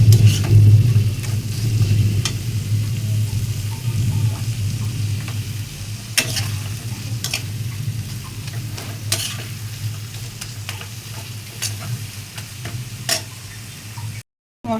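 Spices with turmeric frying in a pan for a fish kalia, a steady close sizzle broken by sharp scrapes and clicks of a spoon stirring, with no talk over it.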